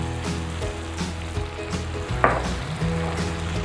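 Green chilies frying in oil in a pan for Peshawari chicken karahi, a steady moderate sizzle with a brief sharper crackle partway through, no voices.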